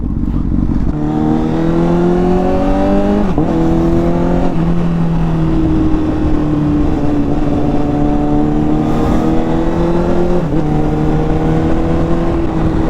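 Big bike motorcycle riding on a road in Bangkok, a loud continuous engine drone with rising and falling revs and a few gear-change dips, heard close throughout with no talk.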